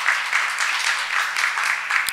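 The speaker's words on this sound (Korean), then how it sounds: "여러분들 큰 박수로 환영해 주시기 바랍니다." Audience applause at an international forum welcoming Kenneth Curtis, a former Goldman Sachs vice chairman, steady dense clapping throughout a hall at moderate loudness, with no talk.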